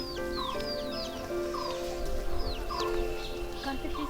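Chickens cluck and chirp at the Ettukaiamman temple in the Kolli Hills, repeated short calls and bird chirps over outdoor background noise, close and fairly loud.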